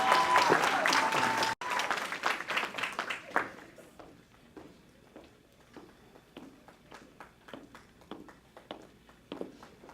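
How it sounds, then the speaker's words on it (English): Applause for a graduate at the 2018 Omnitech graduation ceremony starts as a loud burst of clapping, then thins into scattered, fading claps. "Let's give her another round of applause,"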